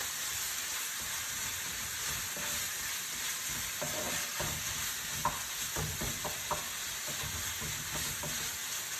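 Ground meat browning in a hot pan, with a loud continuous sizzle and intermittent scraping knocks as a utensil breaks it up.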